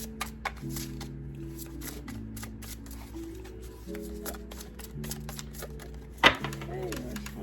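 An oracle card deck is shuffled close up, with a run of soft rapid card riffles and taps, a brief louder knock near the end, and a faint steady tone underneath.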